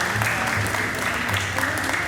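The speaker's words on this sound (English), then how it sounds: "They're applauding you, Katrina." Steady clapping from a group in Groningen, the Netherlands, dense and continuous throughout, fairly loud and close.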